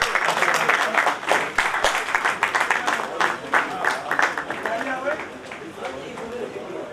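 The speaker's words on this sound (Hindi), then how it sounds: "सचदेवा जी का जोरदार तालियों से स्वागत करेंगे।" Audience at a Delhi mercantile association event breaking into steady, dense applause, fairly distant and even, tapering off slightly at the end.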